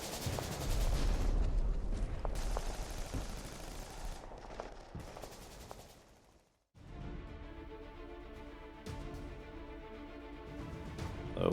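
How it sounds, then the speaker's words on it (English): Wargame battle sound effects of cannons and artillery, with rapid gunfire and booming blasts rolling loudly through the first half, then a brief drop to silence before a steady, layered rumble of continued fire. "Cannons roar, and artillery shells pave the path ahead."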